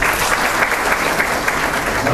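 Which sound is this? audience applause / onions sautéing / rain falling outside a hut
audience applause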